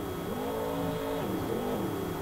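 A Monster Jam monster truck races around an indoor track in Minneapolis, its engine droning and rising and falling in pitch as it revs through a lap, steady and fairly loud, with no voices.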